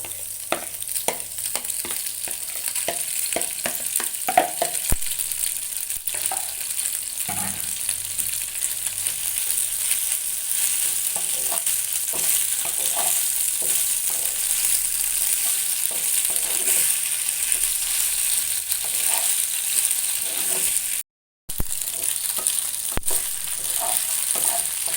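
Macaroni frying with vegetables in a hot pan sizzles continuously and fairly loudly, broken by frequent scraping and clinking of a spoon stirring against the pan.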